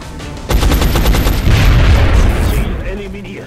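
Automatic gunfire from a squad weapon in the strategy game XCOM: Enemy Unknown, a loud rapid burst of repeated shots followed by heavy booming impacts and rumble, with a voice talking over it.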